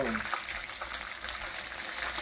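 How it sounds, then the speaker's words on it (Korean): Farmed northern frogs deep-frying in hot oil in a processing room, giving a steady, loud, close sizzle and bubbling that runs without a break from start to finish. "지금 개구리 튀기고 있습니다"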